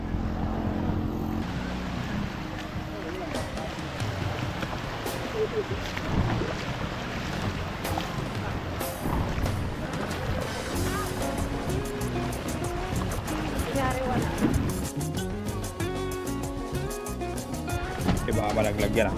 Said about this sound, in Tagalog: Tara na, yun yung bangka.